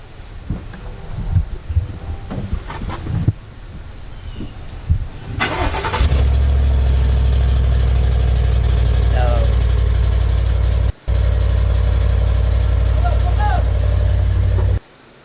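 A black truck's engine cranks and catches, then settles into a loud, steady idle close by, with a brief cutout near the end; scattered voices and handling noises come before the start.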